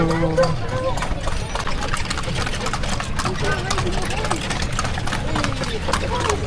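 Horse hooves clip-clop on a town street at night in Vigan, a steady rhythmic clatter over an idling engine hum and busy street noise while people talk nearby.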